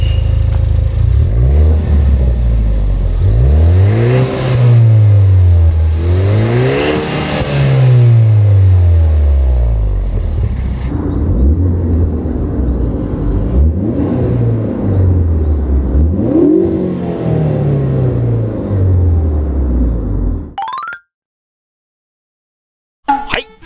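A Ford Focus ST engine on a test drive accelerates hard through repeated gears, its loud close-up note climbing and dropping in several rising sweeps before it cuts off abruptly at the end.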